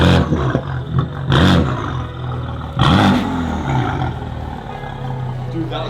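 A Lamborghini engine roars in bursts during a ride, with loud revving surges that rise and fall over a steady rumble, and a voice speaking over parts of it.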